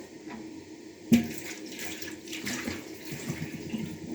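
Tap water running steadily while a kneading tray is washed in a home kitchen, a soft continuous splash with a brief knock near the start, fairly quiet and close, with no talk.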